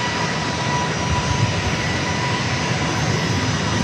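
An aircraft passes over San Diego with a steady, loud engine roar and a faint sustained whine, the broad rumble unchanging across the whole stretch.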